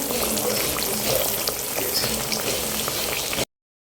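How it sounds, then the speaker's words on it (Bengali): Snacks deep-frying in a pan of oil before potato chops, a loud continuous crackling sizzle close by, ending abruptly in silence. "আলু চপগুলো ভাজা হয়ে গেছে তো এখানে কতগুলো ভাজতেছি"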